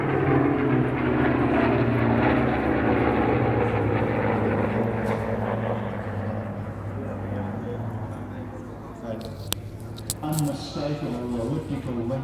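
A Spitfire WW2 warbird flying at the Temora airshow, its piston engine droning loudly and steadily before fading a little as it passes, with a voice talking over it.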